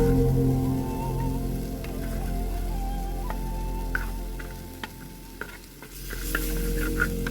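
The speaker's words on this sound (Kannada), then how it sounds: "ಈ ಮಸಾಲೆಯನ್ನು ಬಟರಲ್ಲಿ ಚೆನ್ನಾಗಿ ಫ್ರೈ ಮಾಡಬೇಕು." Masala for an Andhra chilli butter garlic crab fries in butter with a steady sizzle, while a spoon taps and scrapes the pan now and then. No one speaks.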